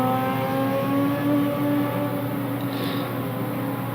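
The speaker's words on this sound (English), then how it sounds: "As burnouts obscure the vision of the camera." Lotus Evora race cars idling and revving during burnouts, a steady engine drone with a sustained tonal hum holding at close range.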